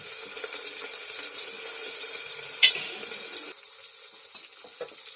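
Chopped onion sizzles in a hot pan for a masoor daal tempering, a steady hissing fry that suddenly drops quieter partway through as the gas is turned down.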